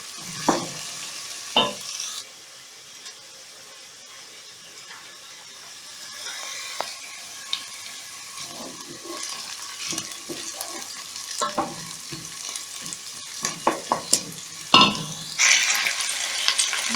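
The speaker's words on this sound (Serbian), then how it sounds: "Evo, crni luk se prži." Onion fries steadily in oil in a pan, with a soft crackling sizzle broken by repeated scrapes and clatters of a spoon stirring, close up and without voices.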